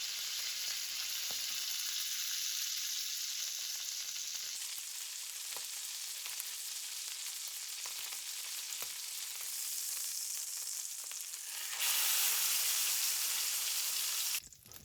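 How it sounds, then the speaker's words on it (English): The fat side of a buffalo steak sears in a hot pan with a steady, crackling sizzle that rises sharply and grows brighter toward the end before cutting off. "I like to render the fat on the side of the steak for around 30 seconds."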